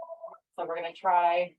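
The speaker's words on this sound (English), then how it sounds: "sorry about that phone" A telephone gives a short electronic ring at the start, during a warm-up exercise session, then someone begins speaking right after it.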